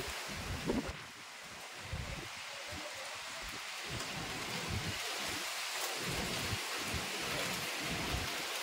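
Light rain falls steadily outdoors as a strong, gusty wind blows, forming a continuous broadband hiss with soft low rumbling surges throughout.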